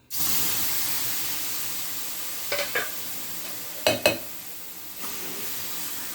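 Tomatoes dropped into hot oil in a pan for a chutney start frying at once, a steady sizzling hiss with a few short scraping stirs along the way.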